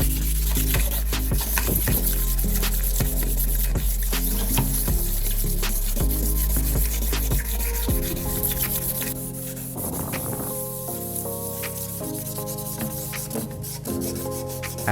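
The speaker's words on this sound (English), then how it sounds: "I put on gloves and begin sanding with P600 sandpaper that has been soaked in water." Wet sanding of an oxidized car headlight lens by hand with water-soaked P600 sandpaper, a steady close rubbing and scraping texture with rhythmic strokes, sounding alone with no voices.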